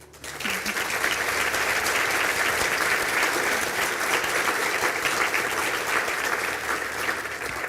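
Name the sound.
audience applause at conferring ceremony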